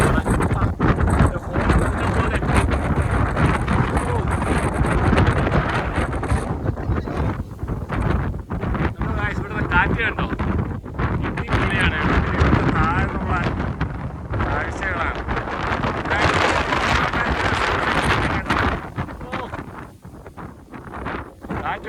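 Strong wind near Kanyakumari buffets the microphone with a loud, continuous roar, while a person talks over it; the gusts ease slightly near the end.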